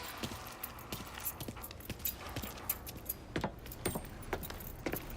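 Car keys jingle in Mafia III in a string of light, uneven metallic clinks and rattles, some sharper than others, over a quiet background.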